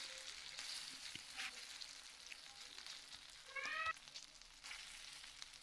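Chhana (paneer) balls frying in hot white oil give off a steady, soft sizzle with faint crackles and a brief brighter spattering burst partway through, with no talking.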